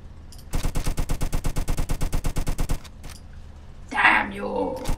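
A rapid automatic weapon in a Roblox game fires a burst of about twenty evenly spaced shots lasting two seconds, loud and close, followed by a short crash and a brief voice.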